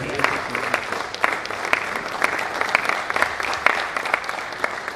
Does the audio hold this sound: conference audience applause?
yes